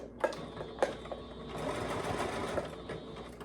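A home sewing machine set to zigzag runs a short back stitch, its motor whirring steadily with a couple of sharp mechanical clacks at the start.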